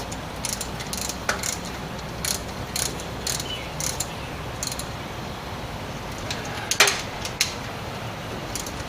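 A ratchet snugs up a radiator hose clamp on a 1979 Chrysler 300. Close, sharp metallic clicks come in short bursts over several seconds against a quiet garage background.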